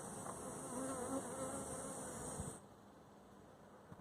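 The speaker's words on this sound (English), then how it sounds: "It's like a black wasp with white legs." A black wasp with white legs buzzes steadily close by for a couple of seconds, then the droning drops away to a fainter hum.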